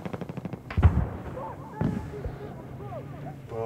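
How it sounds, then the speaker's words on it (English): Gunfire from the video game Battlefield 4 comes as a few sharp bursts, with a quick string of soft shots near the start, then two louder cracks under a player's voice talking. "We've got some shots on target."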